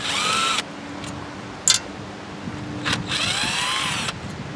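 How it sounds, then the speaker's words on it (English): A power drill spins quarter-inch screws off a lawn tractor in short bursts of whining motor, rising and falling in pitch, with small clicks and clatter between runs, close and fairly loud. "So it looks like we got 1, 2, 3, 4 quarter-inch screws to come off of there."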